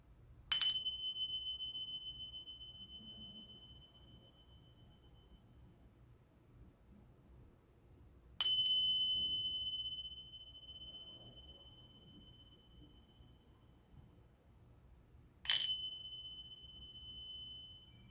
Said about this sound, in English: It's a little windy here, but my wind chimes are sounding off.